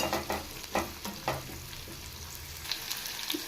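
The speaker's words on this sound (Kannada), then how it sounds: "ಈರುಳ್ಳಿನೂ ಹಾಗೆ ಗೋಲ್ಡನ್ ಕಲರ್ ಬರೋವರೆಗೂ ಚೆನ್ನಾಗಿ ಫ್ರೈ ಮಾಡ್ಕೋಬೇಕು" Chopped onions frying in a pan for mutton sambar, a steady close sizzle broken by several scraping stirs of a spoon, no talking.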